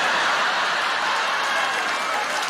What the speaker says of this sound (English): there's a lady cheering